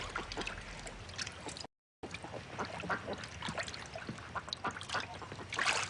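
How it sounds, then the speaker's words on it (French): A duck on the water, with soft quacking calls and splashy ambient noise under a steady outdoor background, moderately close, with one brief dropout. "Vous voyez ce canard là?"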